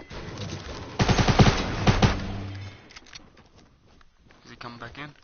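Video game gunfire: a close, loud burst of rapid shots, followed by quieter scattered shots while people talk.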